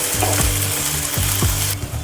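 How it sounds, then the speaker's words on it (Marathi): Tomatoes sauté in a pan for misal, a bright continuous sizzle near and loud with a few spatula scrapes against the pan, then the frying hiss cuts off near the end. "आता आपण टोमॅटो टाकायचा आहे तोही काही मिनिटांसाठी परतून घ्यायचा आहे"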